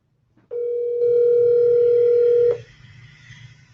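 A telephone call ringing out: a single steady ringback tone holds for about two seconds, clear and close, with no voices.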